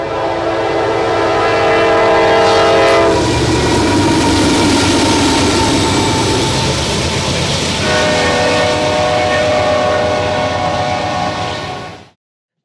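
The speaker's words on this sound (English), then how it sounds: "While we were waiting, a northbound Intermodal showed up." A northbound Norfolk Southern intermodal freight train rolls past close by, its horn sounding in long blasts with a steady rumble of wagons continuing for about twelve seconds before stopping abruptly.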